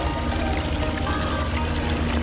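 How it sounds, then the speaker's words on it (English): Waterfall spilling into a koi pond with a hidden biofalls, a steady, loud wash of falling and flowing water filling the whole moment without pause. "just a nice waterfalls coming down"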